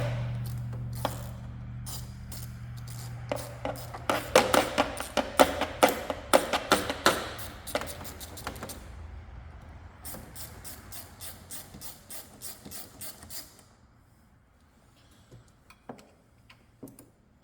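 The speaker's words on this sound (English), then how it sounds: "let's take this upper radiator hose off" Work on the upper radiator hose of a 2004 Jeep Grand Cherokee brings close, crisp bursts of rapid tool clicks in several runs, then a quiet stretch with a few faint taps.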